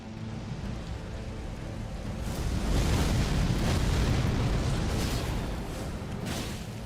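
Flame explosion from the boss Messmer in the Elden Ring DLC, a sustained roaring, rumbling blast that swells in the middle and holds steady with no voices over it.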